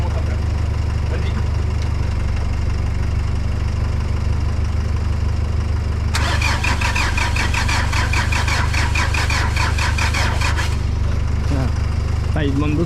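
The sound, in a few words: Nissan Pathfinder engine cranking and starting after engine replacement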